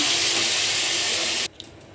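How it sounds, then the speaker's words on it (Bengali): Hot water is poured onto lightly fried rice in a pot for Bengali basanti pulao, a steady hissing, splashing pour lasting about a second and a half before stopping abruptly. "6 কাপ গরম জল দিচ্ছি"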